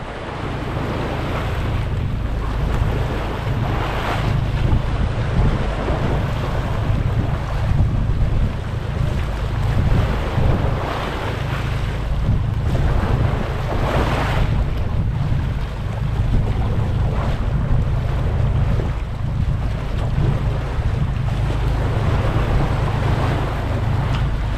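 Boats approach across open sea on a marlin and tuna fishing trip, a steady low engine drone mixed with loud wind buffeting and surf washing alongside, continuous with no talking.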